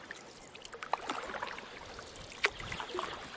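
Oars dip and splash as a small boat is rowed on a forest lake, with soft gurgling water and two sharper strokes standing out against a steady low wash of lapping.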